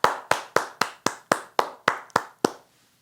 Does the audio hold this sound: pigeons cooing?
no